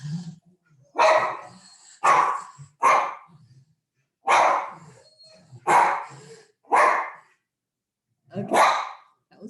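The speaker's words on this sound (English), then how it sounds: "We have a dog alert." A dog barks in sharp, separate bursts near a house, about eight loud barks in irregular clusters with brief silences between them and no other sound.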